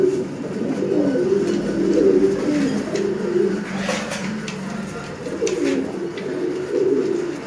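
Sialkoti pigeons coo in soft, rolling bursts close by, a pair of male and female birds calling on and off over faint background noise.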